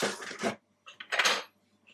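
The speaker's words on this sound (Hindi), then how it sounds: "इसमें 2 से 3 टेबल स्पून जितना दूध डालें और इसको बीट कर लेते हैं" Eggs beaten with milk, two short bursts of rapid whisking clatter against a bowl separated by a brief pause, close and moderately loud, with no talk.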